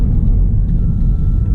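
A Shelby GT350 Mustang engine heard from inside the car while accelerating, a loud, continuous deep low rumble with no talk over it.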